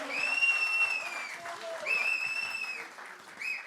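An audience applauds after a song at a golden-era Bollywood music concert, sustained clapping with a prominent high electronic feedback-like tone over it, swelling twice before fading.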